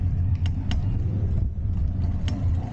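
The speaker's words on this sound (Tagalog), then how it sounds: "May sasakyan, ha?" A car passes on a road near a child learning to ride a bike, heard as a steady low engine rumble with light road noise, fairly close and fairly loud throughout, with no speech.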